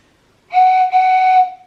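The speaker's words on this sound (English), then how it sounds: "I've got a sweet little whistle." A small whistle is blown loudly and close up, one steady shrill tone lasting about a second with a brief dip partway through.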